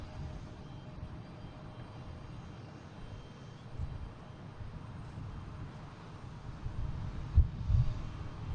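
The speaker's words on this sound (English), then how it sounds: "An A321. Usually it's A220s. A321 Neo." An Airbus A321neo airliner roars at Boston Logan airport, a broad, steady low engine rumble that swells slightly toward the end, with a few faint thumps nearby.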